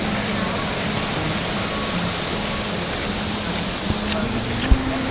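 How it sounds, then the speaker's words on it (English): Steady, dense hiss of heavy rain fills the whole stretch at a campsite in Michigan's Upper Peninsula, loud and unbroken, with a faint knock near the end. "It's raining, it's pouring."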